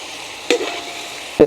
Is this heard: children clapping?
no